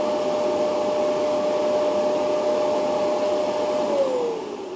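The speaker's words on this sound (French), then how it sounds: "là, il réalise la vidange de l'aspirateur. Ça fait un peu de bruit, mais ça dure quelques secondes." A Dreame L10s Ultra robot vacuum's dock empties its dustbin with a loud, steady suction roar and a high whine, which drops in pitch and fades slightly at the end.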